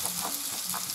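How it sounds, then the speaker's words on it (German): Chicken and green asparagus sauté in a pan, a dish served with noodles, giving a brief, steady, close sizzle with soft crackles and no talking. "Noch 1-2 Minuten anbraten und ist fertig."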